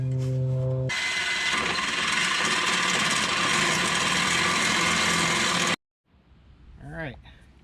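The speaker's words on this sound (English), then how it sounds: "Alright, got that drilled out." Power drill boring out an exhaust part during Nissan Altima resonator and muffler work: a brief motor whine, then a long loud steady grinding drone that stops abruptly, followed by a short rising whine.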